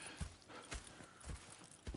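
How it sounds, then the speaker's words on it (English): Horse hooves clip-clop at a slow walking pace in the video game Red Dead Redemption 2, soft and fairly faint, four evenly spaced thuds over a quiet background. "Go check the horses are ready."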